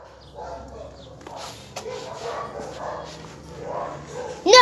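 Dogs barking and yipping at an escaped dog outdoors, several moderate barks scattered through the scene with a sharper, louder yelp at the end, while people talk and call out nearby.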